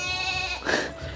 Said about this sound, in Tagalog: Yung kambing